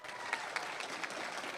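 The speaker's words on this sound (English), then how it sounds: "Let's give them a round of applause." An audience at an elementary school awards ceremony gives honored students steady, even applause, a dense patter of many hands at moderate distance, with no pauses.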